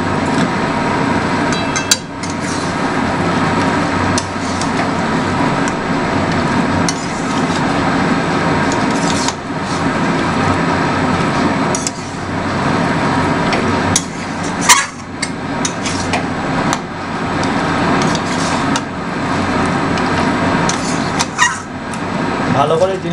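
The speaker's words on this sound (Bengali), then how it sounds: "ভালো করে জিনিসটাকে নাড়তে হবে খুব ভালো করে" A metal spoon stirs mutton in a kadai over a low flame during curry making, giving repeated scraping and knocking strokes with a steady background hiss while a voice talks over it.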